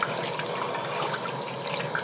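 Tap water runs steadily into a sink to rinse soaped makeup brushes, a constant close splashing rush with no talk.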